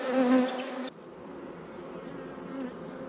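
Honey bees at an open hive in poor condition, showing chalk brood and needing a new queen, make a dense, steady buzzing hum up close, with a brief brighter tonal sound at the start before the swarm drone settles.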